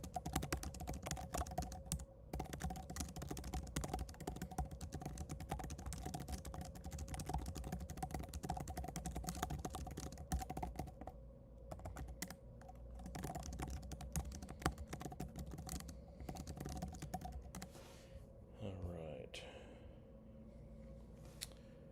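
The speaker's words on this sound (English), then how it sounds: "I have to type something real quick." Someone types rapidly on a computer keyboard, producing dense, continuous clicking keystrokes with a few brief pauses, close and fairly quiet, with no talking.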